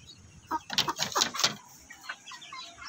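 A four-month-old black Shamo stag chicken gives a few short clucking calls in a cluster, close and fairly loud, then one fainter call follows.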